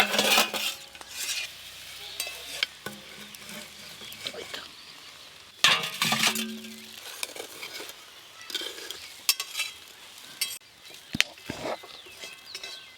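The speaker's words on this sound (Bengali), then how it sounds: "এবার শাকগুলোকে একটু ভালো করে চাড়িয়ে চাড়িয়ে ভেজে নেব এইভাবে" Seven kinds of leafy greens are stirred and fried in a pan, with scattered scrapes and clatters of a spoon against the pan over a faint sizzle, close by and without speech.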